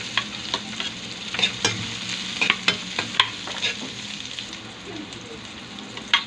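Ginger and garlic sautéed in a pan for fish paksiw, a close sizzle with repeated clattering scrapes and taps of a utensil in an uneven rhythm, no speech.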